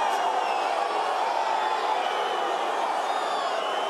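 Rugby stadium crowd at a French Top 14 match between La Rochelle and Toulon roars steadily in a dense, continuous wash of voices after a tackle decision, loud and sustained with no single voice standing out.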